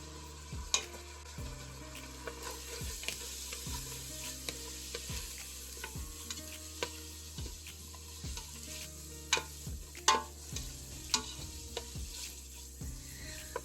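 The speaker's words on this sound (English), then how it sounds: "the onions and the peppers are sauteing a little" Onions and peppers sauté in a pan for a chicken gumbo, giving a steady close sizzle broken by repeated scraping stirs and a few sharp clinks of the utensil.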